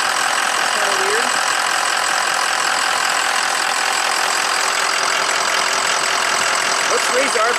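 A 2004 Ford F450 PowerStroke diesel engine idles steadily at close range, a constant dense clatter and hum with no change in speed throughout.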